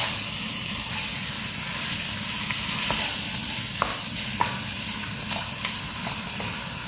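Lamb meat browns in a pot with a steady, loud sizzle and hiss, broken by a few faint clicks and scrapes of stirring.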